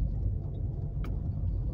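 A car drives along a snowy road in Oregon, heard from inside as a steady low rumble of engine and tyres, even and unbroken, with no talking.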